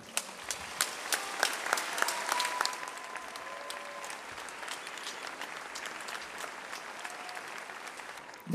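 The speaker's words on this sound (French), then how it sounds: "Merci de l'applaudir." Audience applause at the official opening of the 2013 Hestiv'Òc festival, a steady wash of many hands clapping at moderate distance that holds for several seconds and gradually thins out.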